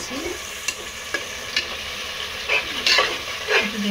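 Spices with turmeric for Bengali beef kosha fry in a pan under repeated scraping stirs from a spatula, the strokes coming in uneven bursts over a continuous close sizzle.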